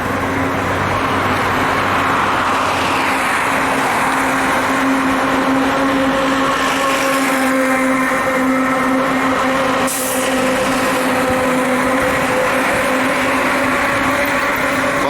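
Steady, unbroken drone of busy highway traffic at night, heard from a vehicle on an 18-hour ride toward Aluva in Kerala: a continuous engine and road rumble with a sustained hum, loud and close throughout, with no talking.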